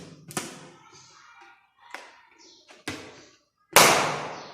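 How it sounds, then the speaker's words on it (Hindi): A rubber balloon is burst during a classroom science demonstration, giving a sharp pop near the end after a few lighter taps and handling sounds, loud and close in a quiet room. "इस गुब्बारे को यदि मैं फोड़ दूं"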